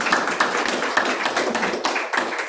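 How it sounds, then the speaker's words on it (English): An audience at a Srimad Bhagavat Saptaham religious discourse claps in a brief burst of applause, a dense patter of hand claps heard close up. "Clap for yourself."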